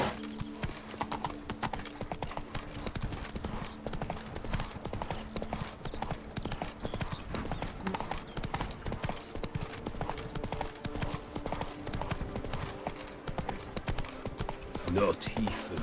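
Horse hooves clip-clop in a steady, continuous rhythm throughout a scene from the video game The Witcher 3, fairly quiet, with speech mixed in.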